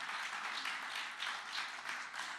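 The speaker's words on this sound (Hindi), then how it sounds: "बैंड ऑफ महाराजा की पूरी टीम का जोरदार स्वागत कीजिए तालियों के साथ।" A crowd at the Manthan 2025 event greets the Band of Maharaja film team with a dense, steady wash of clapping that continues unbroken for a couple of seconds.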